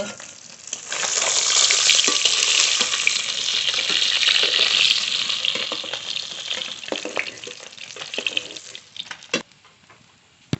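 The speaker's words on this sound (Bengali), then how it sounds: "মাছ ভালো করে ভেজে নিয়েছি" Pieces of glass catfish fry loudly in oil in a wok, a dense continuous sizzle that gradually thins and grows spottier, with scattered pops and clicks toward the end.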